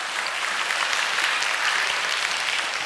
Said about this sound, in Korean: 큰 환영의 박수로 주진태 회장님을 모시겠습니다